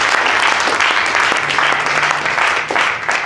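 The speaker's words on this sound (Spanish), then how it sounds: "Den un aplauso al Señor" A church congregation claps together in sustained applause, dense and steady throughout with no break.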